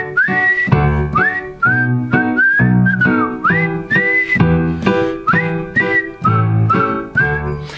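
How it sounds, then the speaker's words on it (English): A person whistles a melodic line for a tune over steady piano chords, with clear sliding notes repeating in short phrases as a transition between song choruses. "If you want to throw in some whistling between as a transition, you can do that too"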